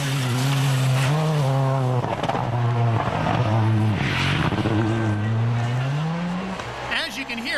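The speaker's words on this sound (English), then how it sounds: "The Finn started on 3 cylinders after blowing the turbo on his Octavia." A Skoda Octavia rally car at the 2003 Rallye Monte Carlo, running on three cylinders with a blown turbo: a rough, droning engine note rising and falling in pitch across several seconds, heard under commentary.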